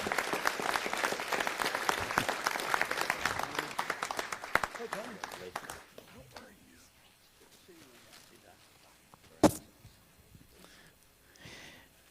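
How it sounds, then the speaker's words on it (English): Applause at a city council meeting, a moderate crowd clapping for about five seconds before it thins out and fades, followed by quiet room noise and a single sharp knock. "let's give them a round of applause as they come."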